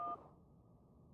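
A phone is dialed in the Syberia adventure game. A short electronic dial tone breaks off into a quiet hiss, and a single keypad tone sounds at the end.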